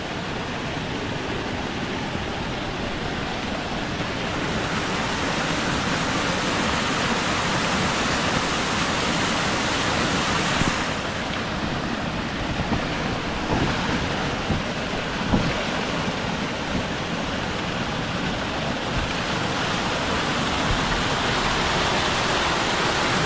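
A village stream where crabs are caught rushes with water in a steady, loud, unbroken wash that fills the whole stretch.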